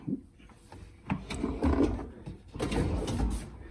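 A soft-close kitchen drawer slides shut with a low rumbling glide, slowing to a gentle, cushioned close, followed by more sliding rumble.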